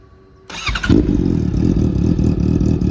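A 2016 Honda CB650F motorcycle engine cranks briefly, catches and settles into a steady, loud idle rumble nearby.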